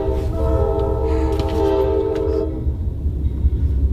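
A train passes close by, its horn sounding a sustained chord for a couple of seconds over the heavy rumble of rolling cars.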